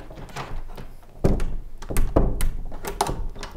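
Inside an old pub, a door is opened and closed, making several heavy wooden thunks and knocks with a faint creak amid shuffling, close and moderately loud, with no speech.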